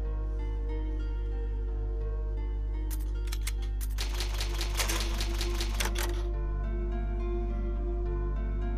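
Clattering typewriter keystrokes from the save point in the Resident Evil Remake video game, a rapid burst of clacks lasting about three seconds over a steady low game ambience hum, with no talk.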